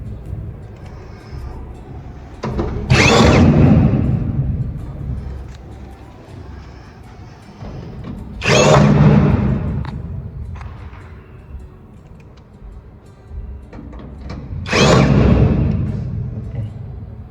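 A power drill drives bolts into the top panel of a two-door wardrobe: three separate whirring bursts, each about two seconds long, spaced several seconds apart, close and fairly loud over a quiet room.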